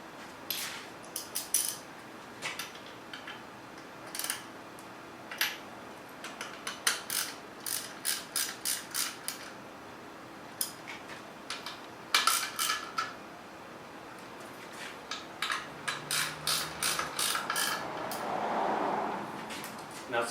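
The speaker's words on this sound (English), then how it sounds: "now I'm going to switch to my ratchet so I can tighten them up by hand" A hand ratchet tightening bolts during a Tesla motor swap: rapid runs of sharp metallic clicks repeat in bursts close by, with pauses between strokes and brief clanks of metal parts.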